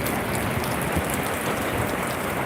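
Rain falls steadily during a thunderstorm, a dense, close, continuous hiss of drops that stays even throughout, with no voices and no distinct thunder.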